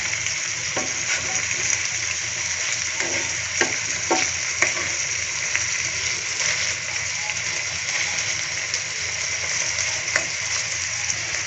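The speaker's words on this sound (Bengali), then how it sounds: "এই পাশটা একটু ভালোভাবে ভেজে নেব লালচে করে" A chicken burger patty fries in an oiled pan, giving a steady, loud, close sizzle throughout, with occasional scraping and stirring taps from a utensil.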